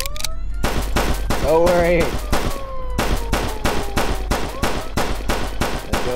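Rapid gunfire from the video game Flashing Lights, loud bursts of shots cracking in quick succession with a siren-like tone sweeping through, and someone talking over the shooting.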